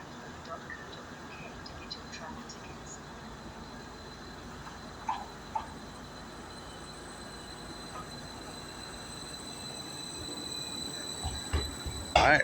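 A train pulls into Norwich station for the service to Stowmarket, its low rumble building gradually and ending in a sharp wheel squeal close by.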